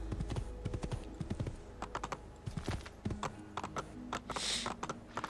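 Rapid hoof clip-clops patter in an uneven rhythm, moderately loud and close, like a horse trotting over hard rocky ground, in the video game Assassin's Creed II.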